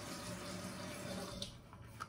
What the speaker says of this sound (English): I'm just slowly adding some water into the brush